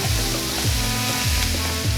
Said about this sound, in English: Okay, so now we're adding in ground turkey.